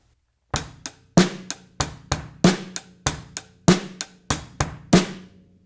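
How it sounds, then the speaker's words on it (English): A drum set rock beat with hi-hat, bass drum and snare, crisp cymbal ticks layered over steady kick and snare strokes, about seventeen close, evenly spaced hits played alone. "And when we add the hi-hat, it's also going to sound like this."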